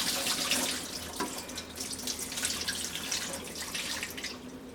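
Hot water poured over raw meat in a sink to rinse it before cooking Haitian griot, a steady splashing pour from a tap or container running close by with no talk.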